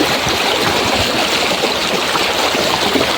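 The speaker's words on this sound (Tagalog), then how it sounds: "May tinatawidan po isang maliit na ilog dito" Water rushes and babbles steadily over rocks in a small stream, a continuous close hiss with no voices.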